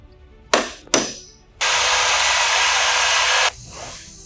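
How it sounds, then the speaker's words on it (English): A power drill bores and taps holes for 12/24 screws when fitting a continuous door hinge: two sharp short bursts, then a loud steady whir of about two seconds that cuts off and fades. "drill and tap for a 12/24 screw"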